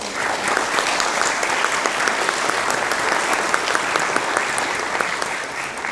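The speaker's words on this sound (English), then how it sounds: "So a round of applause for all of our" Sustained applause from a large crowd at a game industry conference, dense and even clapping that stays loud and full throughout.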